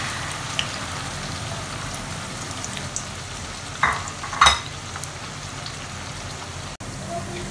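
Onions fry in a pan for a boneless chicken masala handi, a steady soft sizzle with a couple of brief knocks from a utensil partway through.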